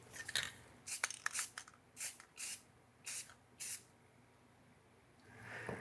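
Spray paint hissing onto a mask in short bursts, about six sharp close sprays with brief pauses between them, then a softer hiss at the end.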